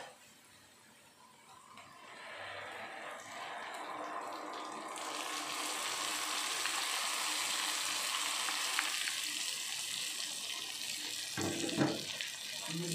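Chili is added to sautéed shallots in a pan for Padang-style gulai cincang, bringing a broad, steady sizzle that builds after a quiet start and keeps frying, with faint clattering near the end.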